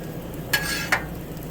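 Fries on a Blackstone griddle on a houseboat get two quick metal spatula scrapes over a low background hiss, close and brief, with no talking.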